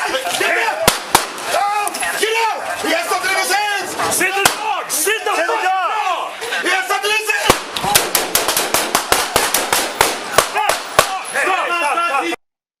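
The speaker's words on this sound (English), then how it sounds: "Three officers discharged their firearms during the second shooting" Police officers fire a rapid barrage of gunshots, sharp cracks repeating densely over a dozen seconds, close and loud, with shouted voices and radio talk running underneath.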